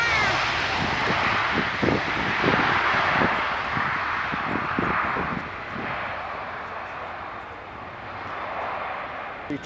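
An Airbus A320-232 airliner lands, heard from inside the cabin as a loud, steady engine and airflow roar with a series of thumps and rumbles from the touchdown and rollout, easing slightly toward the end.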